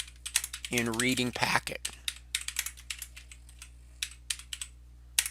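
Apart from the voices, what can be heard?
typing on a computer keyboard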